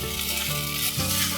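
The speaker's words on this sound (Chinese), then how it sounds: "锅内放入适量的油，把芹菜放进来炒香" Celery stir-fries in hot oil in a pan, giving a dense, bright sizzle with soft stirring scrapes close by, steady throughout.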